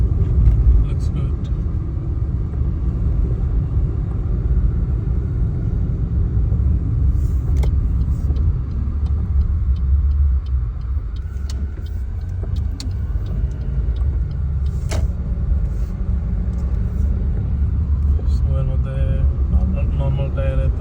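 A car driving on a snowy road on winter tires during a snow storm in St. John's, a constant low rumble of engine and road noise filling the background throughout.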